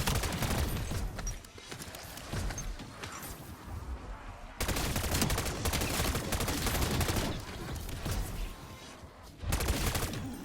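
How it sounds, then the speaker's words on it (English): Burst-fire weapon in Black Ops 7 Zombies, shooting in dense, loud volleys that run almost nonstop, with a brief pause near the middle and a short spoken word over the gunfire. "This is a burst weapon."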